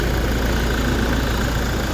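Steady idle of a Toyota Hilux engine after overheating, a continuous close low rumble with no speech.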